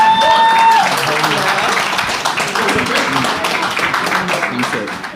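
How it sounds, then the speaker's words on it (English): A live-show crowd claps and cheers in sustained applause, dense and fairly loud, following a brief tone at the start. "Give a round of applause for Asa."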